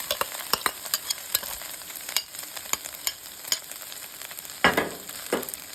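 Pork and onion frying in a pan, a soft continuous sizzle with regular clicking stirs and a louder hiss burst near the end.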